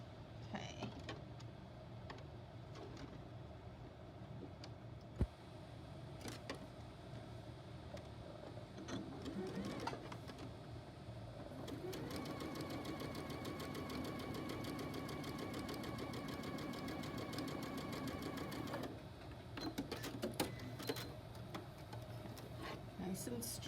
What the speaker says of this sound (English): I'm going to be sewing right here